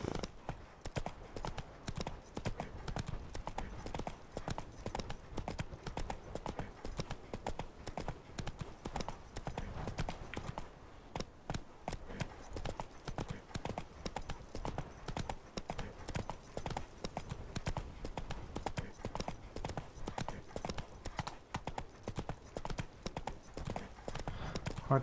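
Roach the horse trots steadily in Witcher 3, hooves clip-clopping in an even, continuous rhythm at moderate distance with no pause, a faint voice murmuring underneath.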